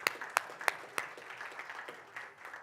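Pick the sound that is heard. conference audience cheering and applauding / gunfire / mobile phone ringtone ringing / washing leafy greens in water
conference audience cheering and applauding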